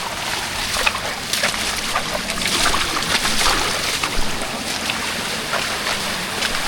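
Rushing water from an approaching waterfall forms a dense, continuous roar, steady and fairly loud with gusty surges, heard on a trail through Konkan countryside.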